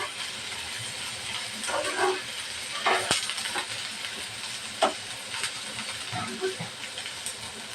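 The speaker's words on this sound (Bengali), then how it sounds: "পেঁয়াজটা ভালোভাবে ভাজা নেব।" Chopped onions and sliced green chilies fry in oil in a pan for a bitter gourd dish, giving a soft, continuous sizzle and hiss with occasional spatula clinks and stirring scrapes.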